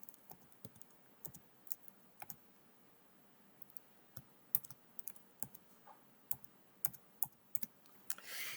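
Rapid, uneven keystrokes on a computer keyboard, clicking alone in a quiet room with bursts of taps and short pauses, ending on a slightly louder clatter.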